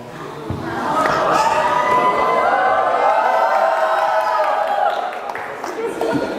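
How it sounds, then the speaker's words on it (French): An audience at a French speaking contest breaks into loud cheering, shouts and clapping that swell and hold for several seconds before easing off. "J'ai quand même entendu des applaudissements"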